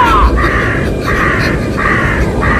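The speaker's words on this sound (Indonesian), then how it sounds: "Itu bukan awan. Itu burung." A flock of crows caws repeatedly overhead, loud and close, the harsh calls coming in regular bursts over a constant rushing background.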